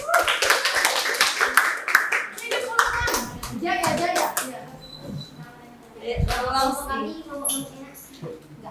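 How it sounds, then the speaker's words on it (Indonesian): An audience applauds loudly in a burst of quick hand claps during the first few seconds, then chatter and voices take over as the clapping fades. "mari kita tepuk tangan yang meriah."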